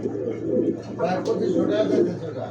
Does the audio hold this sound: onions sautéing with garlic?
no